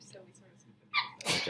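A person sneezes sharply once near the end, after a teacher speaks quietly during an AP calculus review class.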